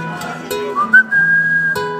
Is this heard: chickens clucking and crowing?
no